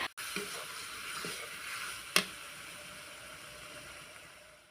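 Meat fries with ginger paste in a pan, a steady close sizzling hiss broken by a single sharp clack near the middle before easing slightly.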